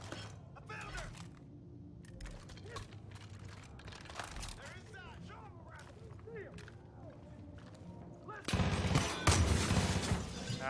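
A shotgun fires in a video game, heard as repeated sharp blasts amid clattering game effects and scattered mechanical noise, with a louder burst of shots near the end.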